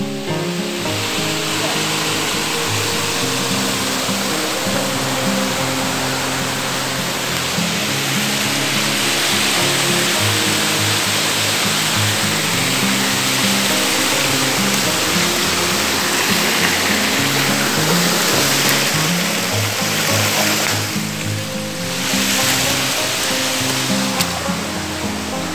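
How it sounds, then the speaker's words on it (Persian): Laton Waterfall in Iran, the country's highest, gives a steady, dense roar of falling water that holds unbroken and fairly loud throughout, with faint voices now and then underneath. "آبشار لاتون"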